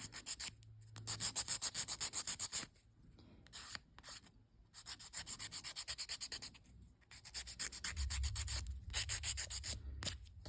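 Fingernail surfaces being roughed up with a buffer before a builder gel base coat, close rhythmic scratchy strokes in several bursts with short pauses between them.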